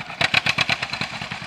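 An 80-year-old John Deere B tractor cutting thick hay chugs close by in an uneven, pulsing rhythm, its two-cylinder beat loud and rough with a clattering edge.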